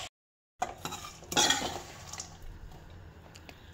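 Carrots scooped out of a light kadhai into another pan for gajar ka halwa: scraping and clinking of a spoon against metal, a short cluster of close knocks and stirring rustle, then quieter scraping.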